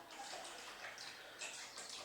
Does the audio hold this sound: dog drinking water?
yes